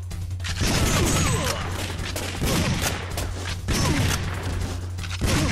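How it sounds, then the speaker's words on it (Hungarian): Gunfire from the Time Crisis arcade shooter, repeated bursts of loud shots in rapid volleys separated by brief pauses, laid over a steady low game hum with no talk. "Egy lövés, egy halál, majd visszafedezéket."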